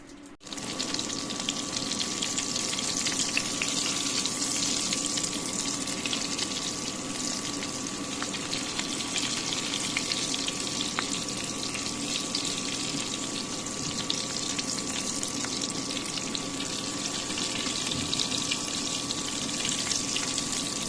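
Battered veal brains sizzle steadily in hot oil in a frying pan, a continuous loud crackling hiss with no talking.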